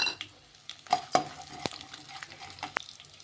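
Peanuts, cashew pieces and chana dal sizzle in hot oil while a spoon stirs and scrapes the pan, with clinks and light taps close by and no talking.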